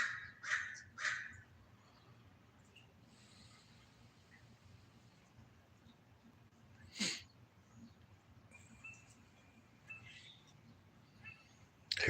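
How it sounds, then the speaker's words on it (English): Crows cawing outdoors on the California Delta during a fishing trip, a few harsh caws near the start and scattered calls later, including one sharp burst midway, over a steady low background rumble. "Here's some crows."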